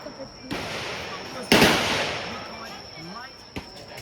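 AK-47 rifle shots ring out at the Cu Chi tunnels shooting range: a few sharp, loud single cracks spaced apart, each trailing off into a short echoing decay.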